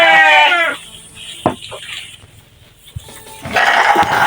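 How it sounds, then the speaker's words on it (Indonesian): Sheep at a farm pen bleat loudly and close at the start, go quiet through a stretch of faint knocks and rustles, then bleat again at the end. "Ini mah domba umum, enggak pilihan."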